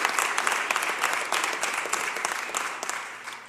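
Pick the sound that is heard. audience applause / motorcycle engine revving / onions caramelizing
audience applause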